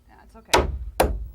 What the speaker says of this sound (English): We attach it with 16-penny casing nails and hammer very carefully.